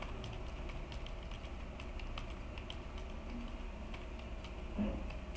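Quick, light clicks of a computer keyboard as C code is typed, soft irregular keystrokes over a faint background hum, close and quiet with no talking.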